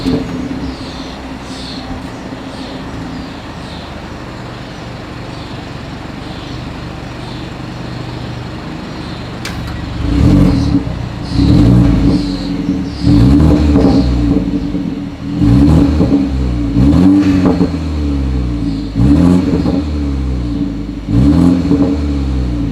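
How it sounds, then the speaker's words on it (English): A 2020 BMW 330i with dual exhaust and chrome tips idles with a steady low rumble, then is blipped through a series of sharp, loud revs in quick succession, each one spiking and falling back to idle. "here is that exhaust clip"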